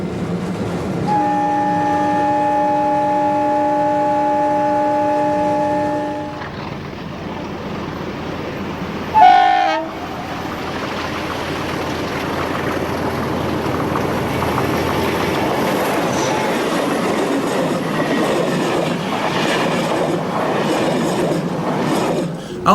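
A CP Portuguese Railways intercity diesel train passes close by, a steady horn sounding for several seconds before giving way to loud, sustained engine and rolling noise with rail rumble.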